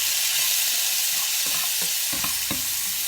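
Onion sizzles steadily in a hot pan while a utensil stirs it, a few soft scraping knocks near the end over the loud, even frying hiss.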